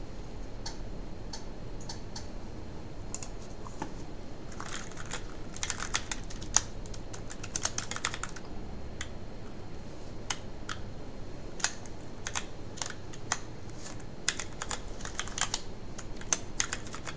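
Typing on an Ultimate Hacking Keyboard: crisp, close keystroke clicks in uneven bursts and pauses, steady and fairly quiet, with no talking.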